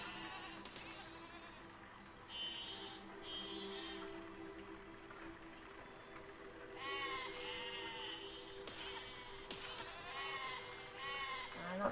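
Sheep bleating in the physics-building video game Besiege, several wavering bleats in bursts over a constant hum of game background noise, moderately loud.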